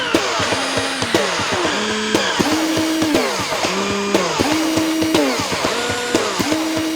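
A homemade contraption built from a drill and a mug runs steadily nearby, a loud continuous whirring broken by repeated rising and falling motor pitch sweeps in a regular pulsing rhythm.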